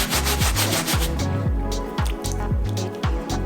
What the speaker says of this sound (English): what I'm doing here is scrubbing the uppers with the soft bristle brush all around